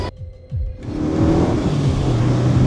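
Renault Mégane RS at a trackday, engine note surging up loudly after a brief quiet start and holding a strong rising roar close by.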